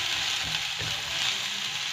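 Finely chopped onion mixture fries in a pan with a steady, even sizzle and faint stirring scrapes, close and continuous, with no voices.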